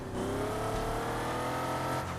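A car in the Car Parking Multiplayer game revving hard, engine pitch climbing steadily as it accelerates, a continuous loud drone for a couple of seconds with no talk.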